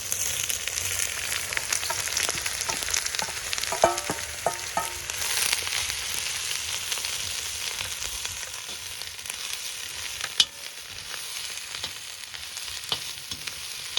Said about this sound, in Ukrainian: Первим ділом кидаємо цибульку і піджарюємо її.